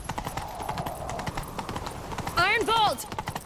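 Horse hooves clip-clopping during a chase in the video game The Witcher 3, with a horse whinny near the end and game dialogue over the hoofbeats.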